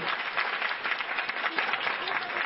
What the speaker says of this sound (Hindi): एक बार पुनः तालियों की गड़गड़ाहट करके आदेशित करिए